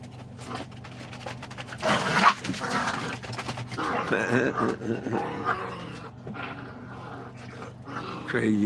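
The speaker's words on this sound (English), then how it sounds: "Crazy dogs." Several dogs bark and growl aggressively in bursts close by, with snarls and whimpers mixed in, while people talk over them.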